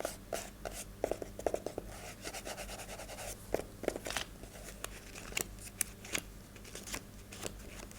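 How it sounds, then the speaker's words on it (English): Books and pamphlets are tapped and scratched with the fingertips, making quiet, close-up dry taps, scrapes and papery rubs in an irregular rhythm with no talking. "I wanted to get you a book tapping scratching video"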